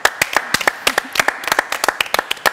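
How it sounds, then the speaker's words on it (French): Scattered hand claps from a small television studio audience, sharp and fairly close, arriving in an uneven patter for a couple of seconds with no voices over them. "C'est fait et ça s'applaudit."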